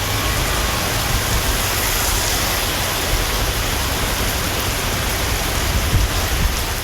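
Heavy evening rain falls over town neighbourhoods such as Kamarajapuram and Thirugokarnam in Tamil Nadu, a loud, dense, unbroken hiss of drops striking surfaces with no voices.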